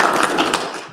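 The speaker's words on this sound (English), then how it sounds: "Let's give them a round of applause" Audience applause at a business indaba event, a dense wash of many hands clapping steadily for about a second, fairly loud and without talk.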